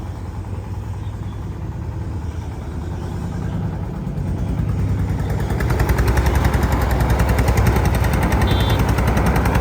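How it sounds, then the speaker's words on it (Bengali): An old engine powers a paddy threshing machine vehicle, chugging in a rapid, rattling rhythm close by; the mechanical racket builds louder and denser over the second half with no talking. "সেই পুরাতন ইঞ্জিন দিয়ে আমাদের গাড়ি ডেলিভারি করা হচ্ছে"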